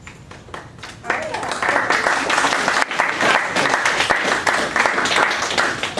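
An audience at a gun rights debate claps, starting with a few scattered claps and swelling into full steady applause that carries on to the end, with some talk mixed in.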